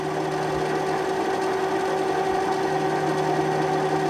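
A Sewer Slinger 16 drain cleaning machine running steadily, a constant motor whine with a strong humming tone and a faint rattling vibration, close and continuous with no pauses.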